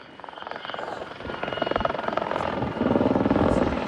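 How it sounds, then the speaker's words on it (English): A helicopter at the Abingdon Air & Country Show air display, its rotor thumping rhythmically and growing louder and fuller, a steady chopping beat as it passes close by. "helicopter I was just talking about is the one heading off now towards the left."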